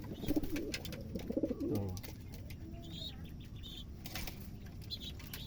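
Pigeons flap their wings in a loud burst near the start, with soft cooing and faint chirps afterward, and a man briefly exclaims over them.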